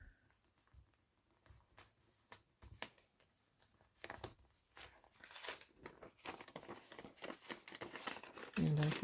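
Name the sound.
paper being folded down in a journal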